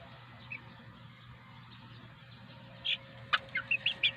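A small flock of seven backyard chickens on a rooftop garden stays mostly quiet, then breaks into a quick run of sharp clucks and chirps near the end, close by over a low steady drone.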